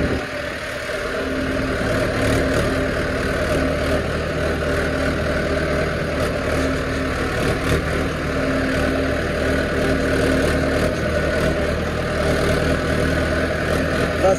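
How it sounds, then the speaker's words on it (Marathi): A farm tractor engine runs continuously nearby, a steady low rumbling drone at even loudness with slight surges, no voices over it. "संजीवा बोललेत की खाली घेऊन ये ट्रॅक्टर"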